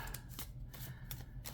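Playing cards are shuffled and tossed in quick, crisp riffling bursts, close and fairly quiet, with no talking.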